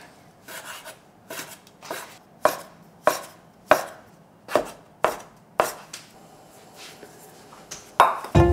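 Knife chopping through folded noodle dough on a cutting board, about a dozen sharp close thuds in a fairly regular rhythm, alone in a quiet room.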